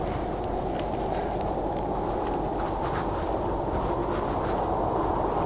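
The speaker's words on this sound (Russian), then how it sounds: "а то слишком громко ветер херячит" Loud, steady wind blowing through the video game Kholat, a dense continuous roar with low rumble and no pauses, heard alone.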